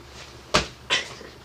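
A heavy palace door opens in a staged Egyptian palace scene, heard as two separate creaking, knocking bumps about a third of a second apart with no talking.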